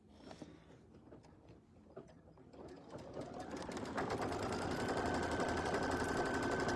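Sewing machine tacking down background fabric on a mug rug, starting with scattered light handling noises and then building into a steady, loud, continuous whir that runs to the end.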